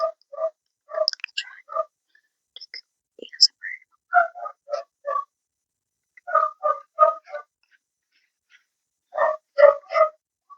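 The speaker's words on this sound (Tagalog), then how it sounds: "Perfect yung tahol ng aso." A dog barks in short, clipped bursts, some in quick runs of three or four, with gaps of quiet between them; the barks sound moderately distant.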